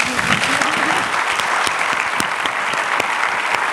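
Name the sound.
forum audience applause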